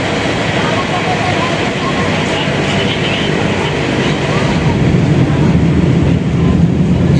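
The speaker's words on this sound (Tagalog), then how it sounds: "Yan, narinig nyo yung LRT1. Ayan, train po yun." An LRT-1 light rail train rumbles past near MacArthur Bridge in the city: a loud, continuous roar with clattering, heard up close and building slightly toward the end.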